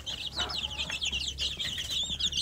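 A flock of free-range village chicks peeping continuously, high and busy, with soft clucks and a low background hum.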